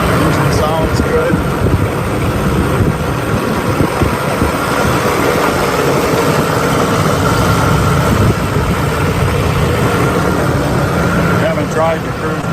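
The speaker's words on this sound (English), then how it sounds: "Engine sounds good." A muscle car's engine idles steadily with a constant low rumble throughout, while a person talks over it at close range.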